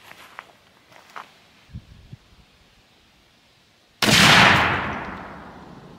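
A choked muzzleloading shotgun loaded with powder, overshot cards and 6 shot fires a single loud, sharp blast that decays into a rolling echo, after a few quiet shuffling footsteps and handling clicks.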